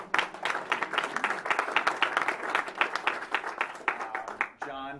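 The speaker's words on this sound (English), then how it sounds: "let's give Tina a big round of applause." An audience at a campaign event breaks into applause, dense steady clapping from a room full of people for several seconds before fading out.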